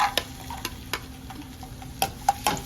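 Black raisins frying in a pan for aval payasam, with a faint sizzle under a run of irregular light clicks and spoon scrapes, close by.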